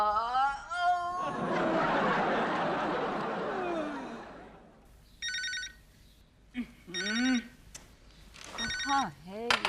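Telephone ringing indoors in a Hindi comedy scene, repeated electronic ring bursts separated by short gaps, following a stretch of laughter and talk.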